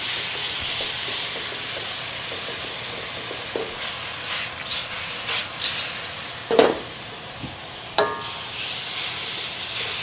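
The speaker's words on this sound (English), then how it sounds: "add that in. It kind of deglazes the bottom of that pan and really makes the sauce come together" Sauce liquid hitting a hot pan of pork and broccoli to deglaze it, giving a steady steamy hiss with a few sharper sizzling bursts and clinks through the quiet stretch, no talking.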